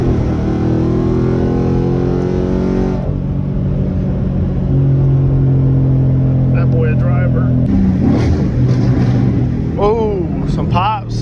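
Ford Mustang driving with a loud, steady engine drone as it slows and downshifts, a few crackling exhaust pops coming through near the end while people talk over it.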